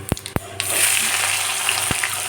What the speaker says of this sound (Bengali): পেঁয়াজগুলো লাল লাল করে আমি ভেজে নেব